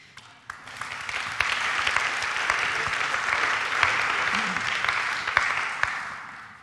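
Audience applause after a startup pitch at a conference event, a full steady round of clapping rising quickly and sustained evenly, moderately close, with no talking over it.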